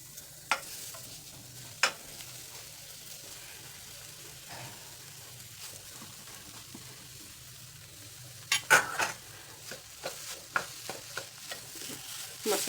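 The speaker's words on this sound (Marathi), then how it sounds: "आता घालायचं स्मॅश केलेला बटाटा" Smashed potato is stirred into frozen peas frying in a pan, with a low, steady sizzle under scraping strokes of a spoon that grow busier toward the end.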